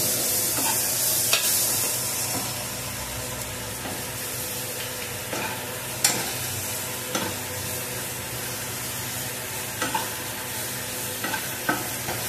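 A spatula stirs fried chicken and capsicum in a hot pan with steady sizzling, broken by occasional sharp scrapes and clacks against the metal, close and continuous.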